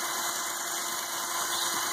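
A Lego L motor drives a continuously variable transmission, producing a steady, even mechanical whir with a constant high whine that holds unchanged for the whole two seconds, close and moderate.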